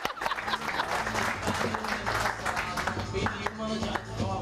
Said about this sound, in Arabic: صفقوا هكذاك